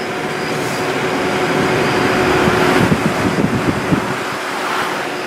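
Steady, loud roar of wind and road rumble inside a moving VW Tiguan SEL at night with the sunroof fully open, a broad rushing noise that never lets up.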